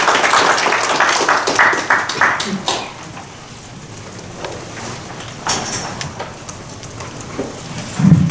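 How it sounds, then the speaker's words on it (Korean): Applause from a seminar audience welcoming a government official to the podium at a Korean policy forum, a steady crackling patter of many hands in a hall, fading then rising again briefly at the end. "과장님께 박수 좀 부탁드리겠습니다."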